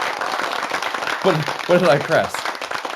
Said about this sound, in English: that was the clapping